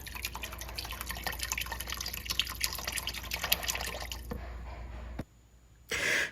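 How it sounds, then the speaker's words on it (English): Beef broth poured from a carton into a pan, a steady close liquid splash and trickle running for several seconds before it cuts off into quiet, with no talk. "And this is beef broth. I am going to use the entire carton. So just pour it on in there."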